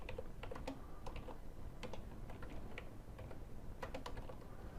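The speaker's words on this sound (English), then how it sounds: "You just type in your name." A name is typed on a computer keyboard in quick, irregular bursts of light key clicks, close and faint over a steady background hiss, with no talking.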